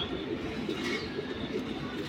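Pigeons in a collection of fancy breeds coo softly in a low repeated rhythm, several gentle calls over a noisy loft background.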